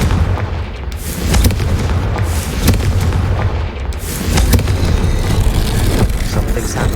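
A Confringo explosive spell blast in Hogwarts Legacy sets off a loud, booming rumble, with heavy low-end explosions rolling continuously and sharper bursts layered over the top.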